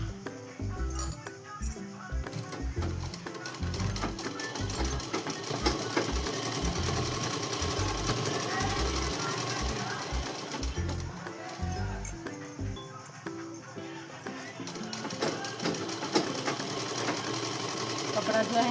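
A sewing machine stitches a dress in bursts of rapid mechanical whirring, starting and stopping repeatedly, close and clear, while a person talks over it throughout.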